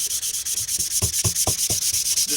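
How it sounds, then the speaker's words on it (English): Sandpaper of 220 grit is rubbed over the surface of a natural whetstone in quick back-and-forth strokes, giving a steady, close, rhythmic scratching with no voices. "The last thing I want to do before I call this surface done is just take some 220 grit."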